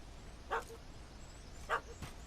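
Dog barking at a cat stuck up a tree in the video game The Witcher 3: Hearts of Stone, giving two short sharp barks about a second apart, with a fainter yip after, over quiet ambient background.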